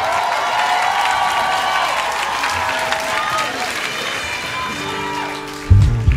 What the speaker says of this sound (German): Applaus für Phoebe am Cello